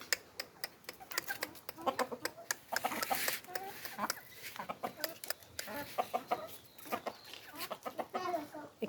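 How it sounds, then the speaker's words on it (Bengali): A rooster and his hens cluck around a backyard coop, with a run of short, sharp, close clucks and pecking ticks that come in uneven bursts. "এটা আমাদের মোরগ রাজা।"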